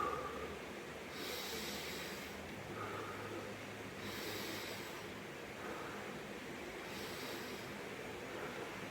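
Slow, deliberate breaths in through the nose and out through the mouth during a calming exercise for anxiety, in three even cycles of soft airy rushes, close to the microphone and without speech.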